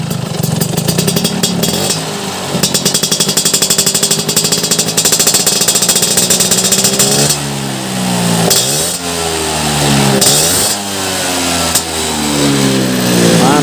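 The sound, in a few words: Vespa scooter engine revving through exhaust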